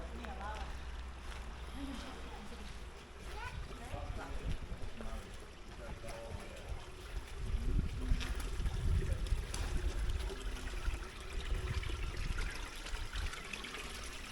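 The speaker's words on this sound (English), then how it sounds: "Water runs around it as well" Water trickles around Gutman's Cave in Latvia, a faint, steady, low wash of running water that carries on without a break and swells slightly in the middle.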